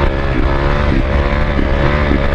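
Motorbike engine revving steadily with a rough, pulsing drone and periodic surges, heard close up through wind buffeting, as a rider tries to pull a wheelie.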